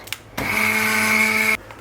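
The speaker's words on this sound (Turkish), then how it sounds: "Blender'dan çekeceğim." A blender purees lentil soup in one loud, steady whir of just over a second, starting and stopping abruptly, with no talk over it.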